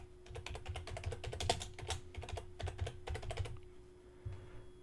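Close, quiet keystrokes clatter on a computer keyboard in quick irregular bursts with short pauses, no voice present.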